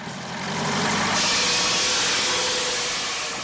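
A 1929 Model A engine drives an ice saw during an ice harvest in northern Minnesota, giving a steady, loud mechanical roar with a grinding hiss that swells and holds.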